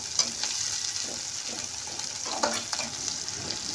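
Onions and green chillies frying in a pan, a steady bright sizzle with a few scraping stirs of a spoon, close up and without talk.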